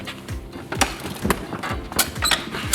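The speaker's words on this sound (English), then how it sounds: "Handbrake applied" A forklift handbrake is pulled on close by, producing a quick series of mechanical clicks, ratcheting and light thunks with no talking.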